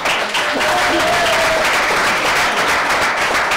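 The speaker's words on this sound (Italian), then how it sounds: "Perché questo applauso?" A studio audience breaks into sustained applause, a thick wash of many clapping hands heard close and loud throughout, with a faint voice briefly showing through.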